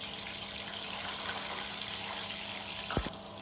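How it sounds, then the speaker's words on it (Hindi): Beef chapli kebab sizzles and spatters in a frying pan as it is pressed down, a steady hissing fry close by with a brief sharp sputter near the end. "इस तरह प्रेस करने से ये देखिए पानी के छींटे पड़ रहे हैं ना"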